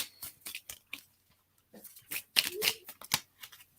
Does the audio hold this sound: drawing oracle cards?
yes